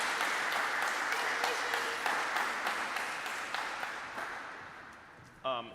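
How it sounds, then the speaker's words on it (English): Steady audience applause in a church parish setting, a broad even wash of clapping that slowly tapers, with a brief burst of other sound near the end. "So if you wouldn't mind giving a nice round of applause for Gina, Kim, and Sarah."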